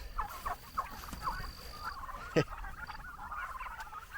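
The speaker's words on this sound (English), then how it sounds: "Spring turkeys." A few short bird calls sound over low background rumble, with one sharper burst partway through, like turkeys gobbling nearby.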